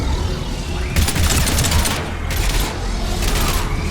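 Rapid gunfire in the Mass Effect 3 game, dense bursts of shots erupting loudly in several waves over a constant roaring battle din, with shouted voices mixed in.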